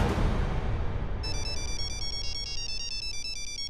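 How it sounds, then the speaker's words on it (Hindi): An incoming phone call ringtone sounds after a brief burst of background noise, a bright repeating electronic melody of pulsed tones that continues steadily and fairly loud, with no speech over it. "हमारे पति का ही फोन है"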